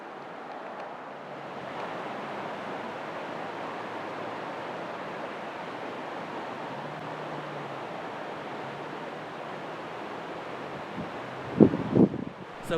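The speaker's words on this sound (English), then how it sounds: "the sound of the water" Mountain river water rushes steadily near a campsite at Lizard Head Pass, Colorado, a constant broad wash with a few brief knocks near the end and no voices.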